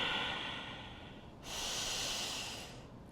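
Deep, audible breaths during a power vinyasa yoga flow, a long hissing exhale followed by a strong, breathy inhale-exhale, close and alone without talk.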